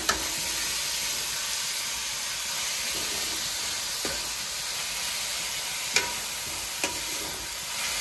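Grated pumpkin fries in oil with cumin and mustard seeds, giving a continuous loud hissing sizzle, close by, with a few faint stirring clicks.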